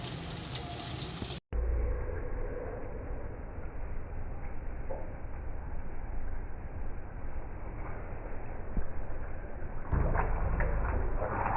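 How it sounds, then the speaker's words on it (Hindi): Chopped green chilies sizzle in hot oil as a tadka tempering for a wedding-style chicken mumtaz gravy, a steady close crackle and hiss that runs evenly throughout and swells louder near the end, with no talking. "ये कटी हुई 3 हरी मिर्चें हम डालेंगे और उनका अच्छी तरह से तड़का लगा देंगे"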